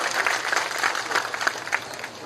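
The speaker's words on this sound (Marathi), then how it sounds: "आपण सर्वजण जोरात टाळ्या वाजून त्यांचं या ठिकाणी मनापासून स्वागत" A crowd at a political campaign rally claps continuously, a dense patter of applause at moderate volume with no talking over it.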